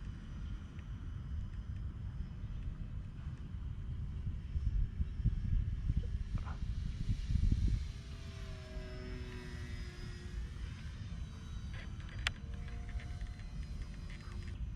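A Hobby King A1 SkyRaider PNP RC plane flies at full throttle, its motor giving a continuous steady drone that swells slightly mid-pass, heard from a short distance with no voices.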